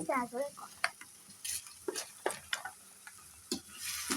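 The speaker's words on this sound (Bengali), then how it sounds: "পেঁয়াজটা আগে ইয়ে দিয়ে লাল লাল করে নিব পেঁয়াজ মরিচ এখানে দিয়েছি তেলের উপর" Onions and chilies fry in oil for a magur fish curry, a faint sizzle broken by several brief stirring scrapes and clinks.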